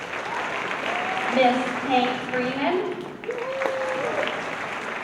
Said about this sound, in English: at which time we will honor you with our applause